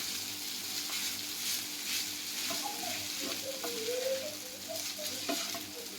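Chowmein with egg and carrot frying and being stirred in a pan, a steady close sizzle with scraping stir strokes and faint higher tones throughout, no talking.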